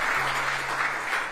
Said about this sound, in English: Can we just get a little bit of applause for Raleigh Poet?